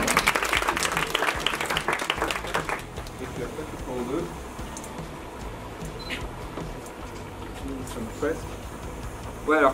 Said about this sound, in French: on peut également l'applaudir.